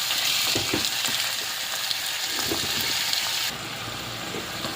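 Squid sautés in a pan with onion and garlic, a loud continuous close sizzle with occasional stirring scrapes and bubbling, easing slightly toward the end.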